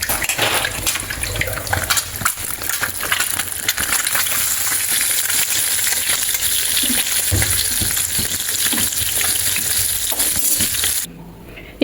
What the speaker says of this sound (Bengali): এখন ভাজতেছি ডিম টমেটো পোস্ট